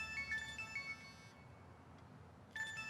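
A phone ringtone rings in a tonal melodic pattern, stops for about a second, then starts again near the end. It is moderately loud with no talk over it.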